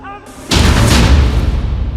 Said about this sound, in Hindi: डबल धमाका, डबल हमला